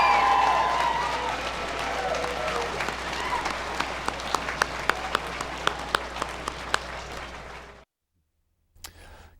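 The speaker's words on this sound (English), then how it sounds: "I ask you to offer the faculty and staff of North Idaho College a round of" Commencement audience at North Idaho College applauds faculty and staff, a broad wave of crowd clapping that starts loud, thins to scattered individual claps, then cuts off.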